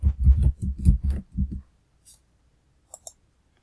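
Keyboard typing, a quick run of soft low clicks in the first second and a half, then silence broken by a few faint isolated taps.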